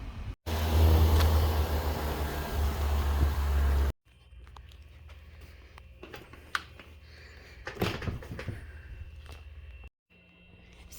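A car engine starts with a sudden loud rumble that runs steadily for a few seconds, then cuts off, followed by quieter clicks, knocks and shuffling sounds nearby.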